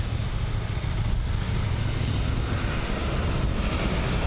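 Jet engines of a Jet2 Boeing 737-800 airliner at Bristol Airport, a loud, steady broadband roar with a low rumble that holds constant throughout, with no talking.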